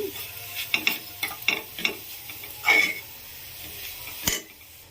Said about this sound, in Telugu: స్టవ్ని మీడియం ఫ్లేమ్లోకి అడ్జస్ట్ చేసుకొని ఫ్రై చేసుకోవాలి